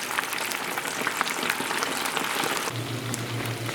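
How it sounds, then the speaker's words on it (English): Tequila lime chicken wings fry in hot oil with a dense, steady crackle and sizzle, close and continuous, with a low hum joining near the end. "we're going to let this go ahead and fry up for probably about 4 to 5 minutes"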